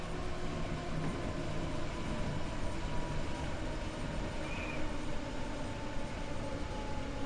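A silver-and-gold train with dark red stripes runs steadily in the Train Sim World 2 simulator, a continuous rumbling rail drone with faint wheel and track noise, no talking over it.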